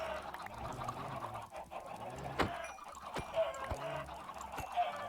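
Chickens in Minecraft cluck repeatedly over a steady game background, with a few sharp hits and thuds from an axe swing or player movement mixed in at moderate loudness.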